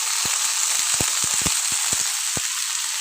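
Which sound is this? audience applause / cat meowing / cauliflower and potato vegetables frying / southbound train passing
cauliflower and potato vegetables frying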